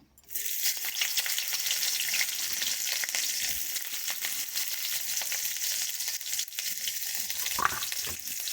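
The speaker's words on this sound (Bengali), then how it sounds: "সর্ষের তেল দিয়েছি, এবার কাটা পেঁয়াজগুলো দেবো" Chopped onions frying in hot mustard oil in a pan, a steady bright sizzle that runs close and fairly loud after a quiet start, with a few stirring scrapes.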